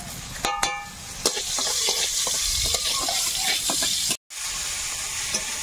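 Dal sizzles and fries in hot oil in a home kitchen while being stirred, the steady crackling hiss broken by scraping spoon strokes and brief clinks.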